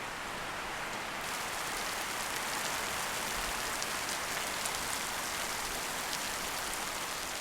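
Steady rain falling in Madagascar, a dense, even hiss of drops on surfaces that holds at a constant level throughout with no voices.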